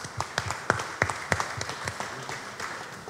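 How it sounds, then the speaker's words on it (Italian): Scattered applause at a press conference for a bread and pasta festival, with a handful of separate claps rising and fading over a low room murmur rather than a full ovation. "Ecco, l'applauso."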